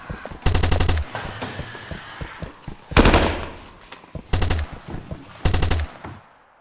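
Designed machine gun fire built in a weapon layering sound-design plugin: four loud bursts of rapid automatic shots, each about half a second to a second long, separated by short gaps with a decaying tail.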